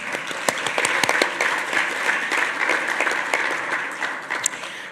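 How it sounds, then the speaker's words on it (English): A crowd at a Politifest livestream event claps in sustained applause, dense and loud, with a few sharper individual claps standing out above the steady roar. "So please give yourselves a round of applause."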